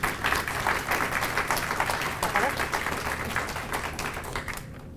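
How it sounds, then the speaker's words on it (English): An audience at a community beautification awards event applauds local businesses, many hands clapping in a lively crowd, with murmured voices mixed in, before the clapping fades out at the end. "Let's have some applause for our businesses."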